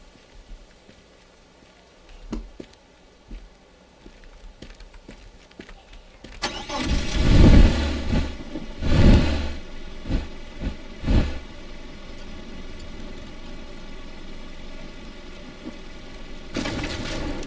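Car engine in the video game Teardown cranks and catches after a quiet stretch, revving loudly in a few bursts before settling into a steady idle.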